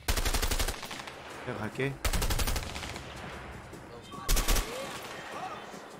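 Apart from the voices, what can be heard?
gunfire from the video game A Way Out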